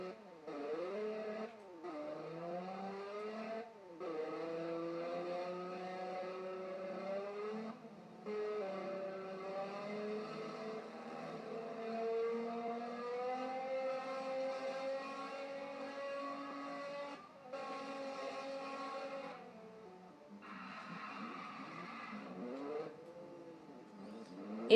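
A car engine in a Roblox game hums and rises in pitch as it accelerates, with a few short breaks and gear-like drops, heard faintly and alone without talk.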